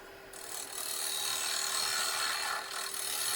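A round carbide tool carves a wooden garlic keeper, producing a steady, close rasping and grinding scrape that runs continuously with a slight dip near the end.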